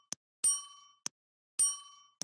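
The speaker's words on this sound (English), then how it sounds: "you hear the sound of the bell" A doorbell rings twice to announce a guest at the front door, each time a short tap followed by a bright ringing chime that decays, clear and alone in a quiet room.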